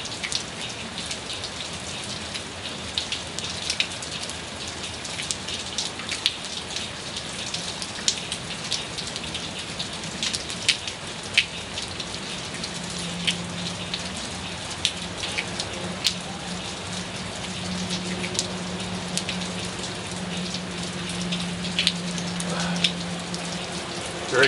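Steady rain falls throughout, a dense, even hiss of drops striking surfaces with scattered sharper patters, continuous and unbroken with no voices.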